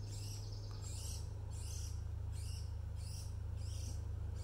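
A Brown-headed Cowbird chick begs while being fed by a Dark-eyed Junco, giving a steady series of high, rhythmic chirping calls about twice a second over a constant low hum, close and fairly faint.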